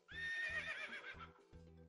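A single loud horse whinny from a Bubble Guppies video game stretches across most of the moment, backed by a steady clip-clop of hooves that carries on briefly after the call fades.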